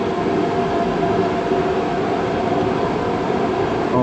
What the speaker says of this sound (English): propane fan over there.